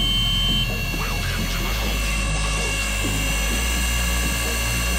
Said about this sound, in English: This is a collective pitch helicopter. It can actually change the pitch of the blades and blow air